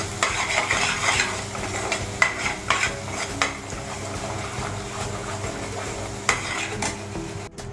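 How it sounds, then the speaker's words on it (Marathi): Veg kurma masala with two spoons of red chilli powder sautéed in a pan: a steady scraping stir with soft sizzling, light clinks of a utensil against metal, and a sharper knock near the end. "आपण हे चांगलं परतून घेऊ"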